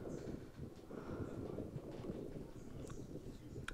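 Strong headwind gusting across an open golf course where an American flag whips about, a faint, steady rush of wind with a few brief rustles and ticks near the end.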